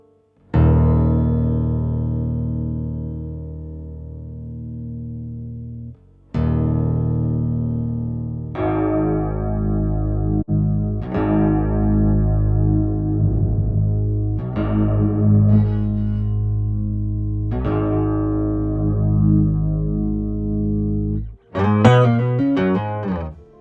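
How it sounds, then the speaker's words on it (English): Electric guitar notes and chords ring out through an octaver and chorus effect, with a thick, shimmering chorus and a deep doubled low octave, played in separate phrases, loud with no voices. "I'm going with a chorus here, but you can also use something else."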